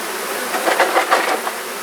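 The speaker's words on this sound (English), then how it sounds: "there are lots of bees in this hive" Honey bees buzzing at an open hive during a brood box and honey super check, a close, steady hum with a few louder swells as individual bees pass near.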